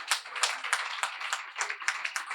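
An audience claps rhythmically in a church service, a steady run of sharp, fairly close hand claps with no voices over it.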